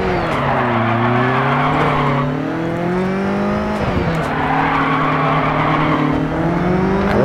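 A rally car in DiRT 4 drives hard with a loud, close engine drone whose pitch rises and falls through gear changes, broken by tire skids and scrabbling gravel, with no talk over it.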